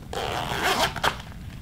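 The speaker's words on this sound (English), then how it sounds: "I don't understand why the zipper's on the bottom" A zipper on a small novelty handbag shaped like a pair of lips is drawn open in one quick pull, close and fairly loud with a brief rasp near the end, and no voices are heard.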